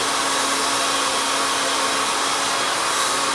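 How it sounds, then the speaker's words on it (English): A hair dryer runs at a loud, constant roar while hair is blow-dried in 1-inch sections with a boar bristle brush, a steady whine with no voices. "So we're just going to take 1-inch sections and begin to blow dry through."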